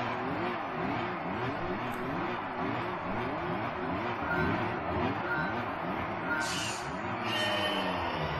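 Race car engines at the start of a Gran Turismo 3 K Lightweight Cup race, with turbo kits fitted: loud, steady revving that rises and falls repeatedly as the cars accelerate through the gears.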